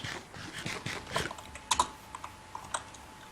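Fast light keystrokes on a computer keyboard as a slash command is typed during a Minecraft Hexxit session, an uneven quiet patter of clicks with a couple of sharper taps midway.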